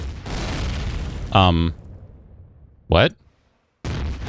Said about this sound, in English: All right, who's shooting at me?